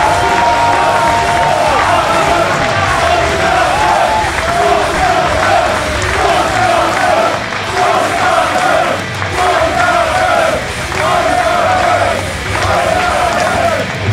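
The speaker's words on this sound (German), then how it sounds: "bitte einen aufbauenden Applaus für Anil Marik" A live wrestling crowd in an arena, a wXw show, roars and cheers continuously at full volume, a dense wall of shouting voices and applause with no single voice standing out.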